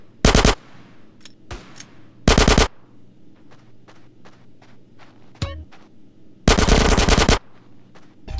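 Automatic gunfire from Grand Theft Auto: San Andreas comes in loud, close bursts of rapid shots separated by quieter stretches. Faint footsteps or small clicks can be heard between the bursts.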